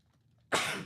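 A single sharp, sudden sneeze bursts out after a moment of near silence, loud and close.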